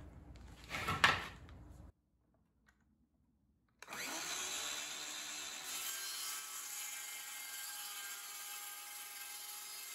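A power saw cuts a 25-degree bevel on the bottom of a wooden dog ramp: a short rasping burst, a moment of near silence, then a sustained high whining cut that runs steadily to the end.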